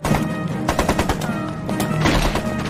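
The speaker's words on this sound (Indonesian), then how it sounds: "ia kembali diburu oleh senapan mesin yang menembak tanpa henti" Rapid machine gun fire in an action film, a dense run of loud, close bursts with sharp repeated cracks continuing throughout.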